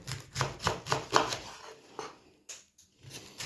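A knife chops through a firm cabbage head in a quick series of crisp crunching cuts, close up, then a few slower cuts after a pause.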